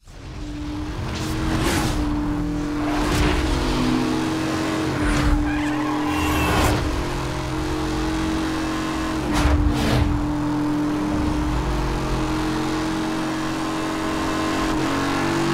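A Bugatti Veyron 16.4 engine in Need for Speed Hot Pursuit Remastered roars steadily at high revs, with several bursts of tire squeal and skidding layered over the continuous drone, loud and close.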